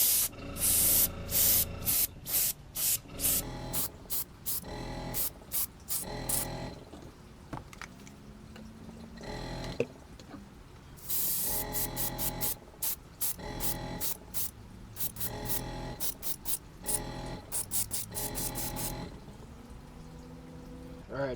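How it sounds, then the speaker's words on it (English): An airbrush sprays paint onto a handmade wooden bluegill lure in repeated hissing bursts, loud and close, with short pauses between passes. "Just going to get a little loud here. Plug my airbrush back in."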